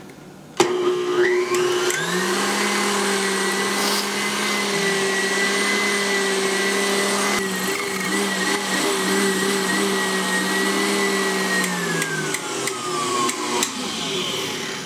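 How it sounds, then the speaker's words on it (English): Electric hand mixer whipping egg whites with lemon powder, salt and other dry ingredients in a bowl, a loud steady whirring motor that starts abruptly, holds for about eleven seconds with slight pitch wobbles, then winds down. "the egg whites are nicely whipped with all of the dry ingredients"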